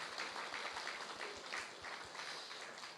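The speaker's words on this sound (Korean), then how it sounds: "우리 한번 이분들께 박수로 한번 격려합시다." Church congregation applauding during a revival service, a soft, moderately distant patter of many hands clapping steadily, with faint low thumps recurring underneath.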